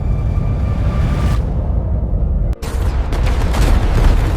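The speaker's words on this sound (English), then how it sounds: "Huge battleships fire plasma cannons at each other." Heavy, rumbling blasts and booming roars of battleship plasma cannons in an orbital space battle fill the clip continuously, with a brief sharp drop around the middle before the barrage resumes, loud and close.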